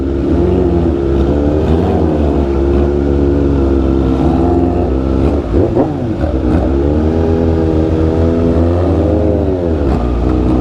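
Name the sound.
Yamaha R6 or Kawasaki ZX6R sports bike engine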